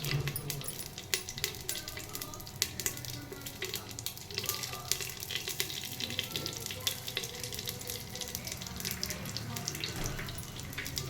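Whole spices, shahi jeera among them, crackle and sizzle in hot oil for a soybean biryani, with busy popping spits over a steady frying hiss.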